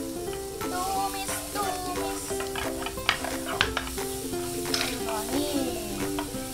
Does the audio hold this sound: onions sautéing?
yes